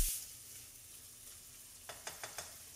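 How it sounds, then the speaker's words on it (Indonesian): Beef pieces stirred in a pan for tongseng, a low steady sizzle and frying hiss with a few distinct scrapes or clinks of the stirring utensil near the end, no talking. "Kita masukkan aja dan aduk-aduk kita masak dagingnya"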